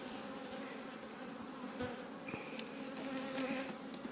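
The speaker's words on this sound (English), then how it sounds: "there are still quite a lot of bees" Honey bees buzz around a large open hive after a swarm, a soft steady drone of many wings with a few individual bees whining closer past the listener, no voices.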